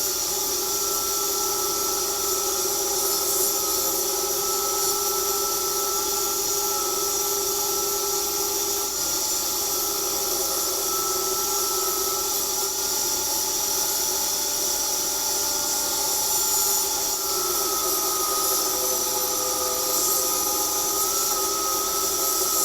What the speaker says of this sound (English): we've adjusted our saw and we're just going to start trimming down our planks